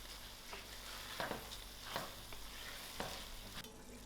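Tomatoes frying in a pan for a chickpea and spinach curry with chana dal, a steady close sizzle broken by a few soft stirring scrapes, with no voices.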